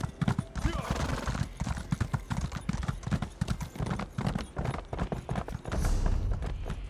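Horse hooves clip-clop in a steady, rhythmic gait while riding in Elder Scrolls Online's Elsweyr, loud and close, with a whinny-like sound near the end.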